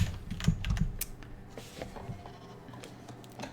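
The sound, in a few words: computer keyboard keys clicking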